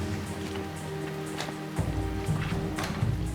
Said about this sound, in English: In the driving rain